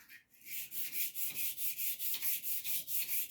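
A blade is rubbed in even back-and-forth strokes on a sharpening stone to take off a burr, giving about a dozen rhythmic, close scraping swishes.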